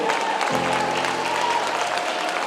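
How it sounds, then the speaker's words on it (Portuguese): A church congregation claps for Jesus during a sermon, dense steady applause filling the room with a low sustained tone, likely an organ or keyboard, entering partway through. "Aplauda o Senhor Jesus."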